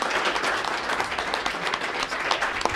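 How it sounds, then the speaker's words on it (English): An audience at a school governing board meeting claps for a newly sworn-in member, a steady, dense round of applause at close range that continues with no let-up. "Big round of applause."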